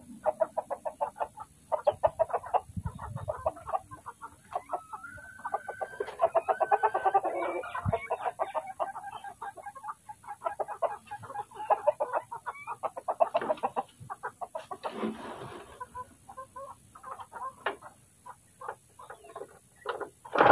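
Chickens clucking close by in a farmyard, a dense stream of short, repeated clucks and squawks from several birds over about twenty seconds, with no talking.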